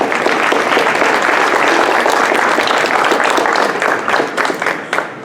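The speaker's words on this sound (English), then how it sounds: "Go ahead, you give her a round of applause." A banquet audience at a boys' soccer program event gives a loud, sustained round of applause, dense clapping that fills the room before thinning out near the end.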